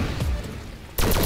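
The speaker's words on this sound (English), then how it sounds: "It's a sniper, dude. And it's like automatic." Automatic sniper rifle fire in Call of Duty: World at War zombies mode, a short burst of rapid shots that stops and then resumes after a brief gap.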